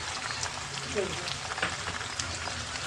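Shrimp frying in a hot pan for a Bengali chingri bati chochchori, a steady broadband sizzle running throughout with a few faint clinks and a soft voice briefly underneath.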